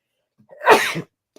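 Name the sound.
sneeze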